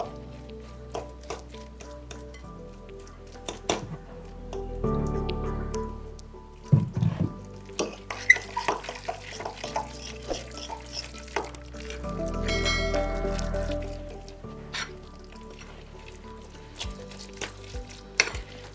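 Noodle pakora batter is stirred and mixed by hand in a bowl, giving wet squishing and sloshing sounds in uneven bursts, with heavier stirring pulses and quieter pauses between, close and without talk.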